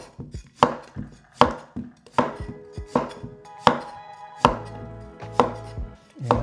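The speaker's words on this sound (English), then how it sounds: "it's just a really fast way for cooks in China to cut a vegetable into similar sized chunks" A knife chops a vegetable into chunks using the Chinese rolling cut, about nine crisp, evenly spaced strikes on a cutting board, each close and sharp, with no voices.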